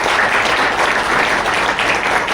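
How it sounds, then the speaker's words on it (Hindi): A crowd at an RCM celebration event gives loud, continuous applause, many hands clapping together in a dense, unbroken burst. "मैं प्रमोद यादव सर के लिए एक बार जोरदार ताली चाहूँगा"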